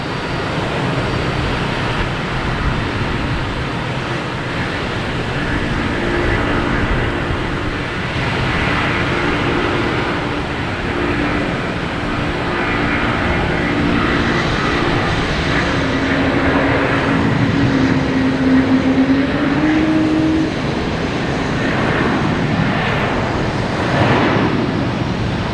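An Airbus A330-300 departs Boston Logan Airport bound for Amsterdam, its jet engines producing a steady, broad roaring rumble that swells slightly and persists throughout, mixed with gusty wind noise on the microphone.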